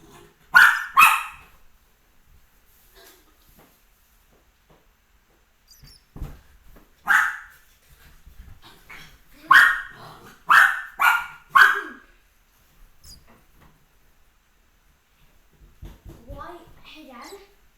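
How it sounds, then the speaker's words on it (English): A puppy plays and barks in a series of sharp, close yips spread over several seconds, with quiet gaps, small whimpers and a voice talking between them. "why is the puppy nippy? She's playing with you."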